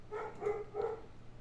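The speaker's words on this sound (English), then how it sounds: "There goes the dogs." Dogs bark in the background, three short muffled woofs in quick succession at moderate distance, then fading into a low steady hum with no talking.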